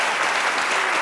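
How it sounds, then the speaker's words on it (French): Studio audience on a French television talk show applauding, a brief burst of dense, even clapping that fills the room at a constant loud level. "on applaudit très fort Paulus."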